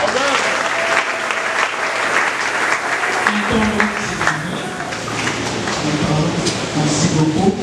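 A congregation applauds steadily and loudly through a church worship service, with a dense wash of clapping and a few voices mixed in.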